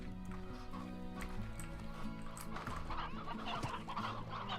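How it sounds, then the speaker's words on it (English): Many chickens cluck in the video game Slime Rancher, a busy overlapping chorus of farm fowl sounds heard steadily at moderate volume over a continuous game background. "Whoa, there's a lot of chickens!"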